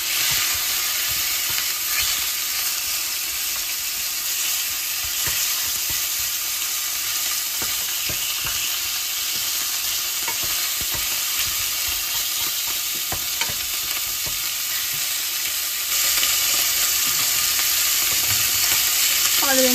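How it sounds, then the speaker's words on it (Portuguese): Pork ribs searing in a pan for a bean dish give a steady, loud sizzle and hiss throughout, with faint scrapes of stirring and a brief swell in intensity near the end. "Selando aqui, ó. Assim que ela dourar, eu vou entrar com feijão."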